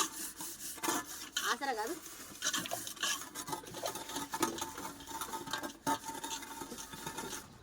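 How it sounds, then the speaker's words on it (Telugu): Cooking pots and vessels are scrubbed clean at home ahead of Christmas, with irregular rubbing and scraping strokes heard close, interrupted by clanks of metal, while someone speaks briefly. "గిన్నెలు అయితే తోమటం అయిపోయింది."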